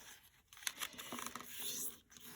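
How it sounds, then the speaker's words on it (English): Old decorative book end paper folded in half, giving a few close crisp paper crinkles and rustling swishes that rise and fade over a couple of seconds. "I'm just going to fold it in half"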